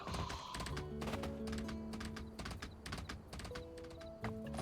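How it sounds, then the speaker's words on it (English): Horse gallop sound effect in the video game My Time at Sandrock, a quick repeated clip-clop of hoofbeats over sustained musical game tones, moderately loud and continuous with no talk. "So they chose a horse's gallop as the sound."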